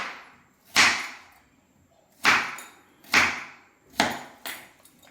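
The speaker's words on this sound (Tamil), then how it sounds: "இதே மாதிரியே கிழங்கு எல்லாத்தையுமே நம்ம பீஸாக கட் பண்ணி எடுத்துக்கலாம்." A knife chops tubers into pieces on a board for a breakfast dish, giving five sharp, separate cuts at uneven intervals with short fading tails. No one speaks.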